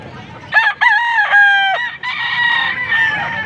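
A bull stag rooster crows loudly and close by, one long broken cock-a-doodle-doo lasting about three seconds with a few short clucks before it.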